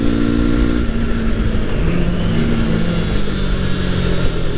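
A small CC motorcycle on twisty New Zealand back roads, its engine loud and close, revving up then dropping as it shifts and climbs through the gears, with wind rush throughout.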